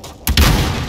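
A stun grenade goes off in a video game, a sudden loud burst that lands about a quarter second in and leaves a sustained rumbling, roaring wash.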